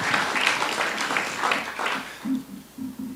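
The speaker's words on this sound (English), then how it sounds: "Please give him another round of applause," Audience applause for the mayor at a sponsorship announcement event for the Magic City Classic, a fairly loud burst of clapping that fades out toward the end as a voice begins speaking.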